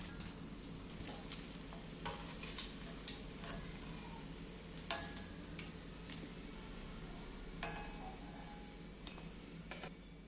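Paneer popcorn frying in hot oil, a quiet, steady bubbling sizzle with a few sharp ticks and clicks of the turning spoon, heard alone without talk.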